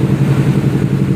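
A Kawasaki Ninja 250 idles with an aftermarket slip-on exhaust fitted to the original header, giving a steady, close, loud low engine burble with a fast, even pulse.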